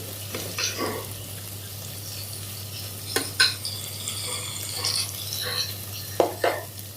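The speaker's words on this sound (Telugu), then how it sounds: "ఆయిల్ వేసుకుని ఫ్రై చేసుకోండి, ఆయిల్లో కానీ బటర్ అవైలబుల్గా లేనప్పుడు ఆయిల్లో కూడా ఫ్రై చేసుకోవచ్చు." Paneer for palak paneer frying in oil in a pan, a steady low sizzle broken by a few sharp clinks and scrapes of a spoon stirring against the pan, close by.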